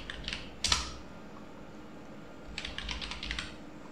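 Keyboard shortcut typed on a computer keyboard during an MS Word demonstration: a quick cluster of key clicks, one sharp louder press, then a pause and a second burst of several rapid clicks, close and clear.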